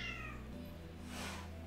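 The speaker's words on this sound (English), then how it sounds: "my cats are fighting" Indoors, house cats fight, letting out a drawn-out, wavering meow and caterwaul over a low steady background hum, fairly faint and heard alone without talk.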